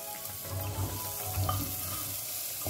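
Rice sautéing in a little oil in a pressure cooker pan for pulao, a soft continuous sizzle with gentle stirring scrapes, fairly quiet throughout.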